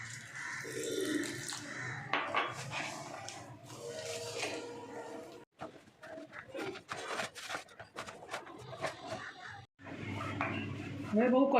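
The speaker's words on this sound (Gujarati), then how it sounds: "હવે થોડું પાણી એડ કરી આપણે પૂરીનો લોટ બાંધી લઈશું." Water added to oats and coriander flour while kneading dough for puris, pouring and splashing with mixing noises at close range, under a voice talking throughout.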